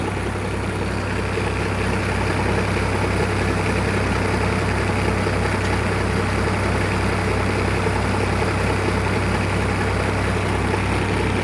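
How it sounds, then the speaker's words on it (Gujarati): A New Holland 3230 tractor engine idles steadily at about 1200 rpm with live PTO engaged and no load, giving a continuous low diesel drone that stays loud and even throughout. "એકસો સડસઠ કલાક ચાલી ગયું છે અને લગભગ બારસો આરપીએમ પર ચાલે છે"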